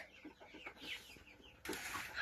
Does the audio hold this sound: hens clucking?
yes